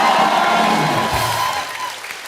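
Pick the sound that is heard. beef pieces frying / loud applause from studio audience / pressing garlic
loud applause from studio audience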